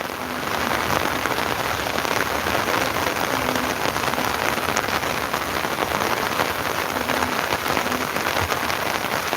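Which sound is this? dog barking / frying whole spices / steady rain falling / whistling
steady rain falling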